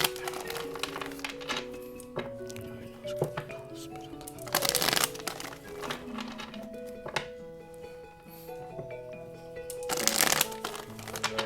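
Tarot cards being shuffled by hand in repeated riffling bursts, close and moderately loud, over steady background music with no talking.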